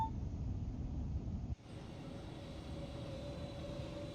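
Electric train accelerating in Train Sim World 2, shown in a custom Javelin livery, gives a steady low rumble with a thin rising motor whine that continues after a brief drop in level.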